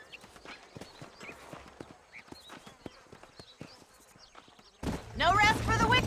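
Horses' hooves clip-clop at a steady walking rhythm over dry ground in the Red Dead Redemption video game, moderately close, with insect buzz in the background before a loud burst of voice and noise near the end.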